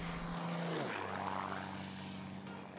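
A propeller aircraft drones overhead on its first flight, a steady engine hum whose pitch drops as it passes, fairly faint and heard alone without voices.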